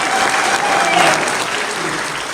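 Full, sustained crowd applause at a community show gathering, a loud continuous roar of clapping hands holding steady throughout, with faint voices mixed in.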